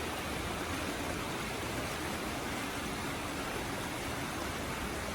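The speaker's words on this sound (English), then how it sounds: "I wanted to show you the running water and how fast it's going, and the lovely sound it makes" Fast-running stream water beside a historic Civil War era mill rushes in a steady, broad hiss, continuous and fairly close with no voices.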